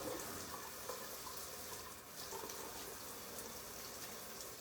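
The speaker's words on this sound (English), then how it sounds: "let me wash my hands" Steady running water from a kitchen tap while hands are washed, a continuous broadband rush that stays even and fairly quiet throughout, with no talk.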